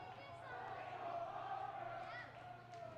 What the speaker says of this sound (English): So that's the crowd noise you're hearing